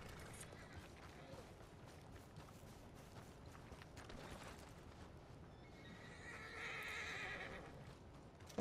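A horse whinnies in the video game Red Dead Redemption 2 Online over a busy background of hoofbeats and game ambience, fairly quiet overall with a higher squeal near the end.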